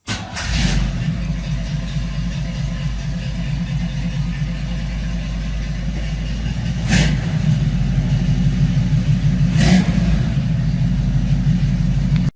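A car engine runs steadily and loud throughout as the wife's car is driven out of a garage, its low drone rising slightly toward the end, with two brief sharp knocks or clunks standing out along the way.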